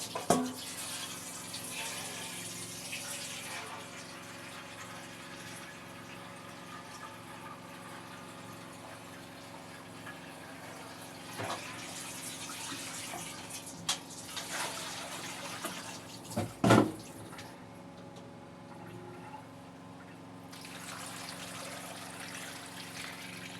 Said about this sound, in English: What I will do now is to add my water.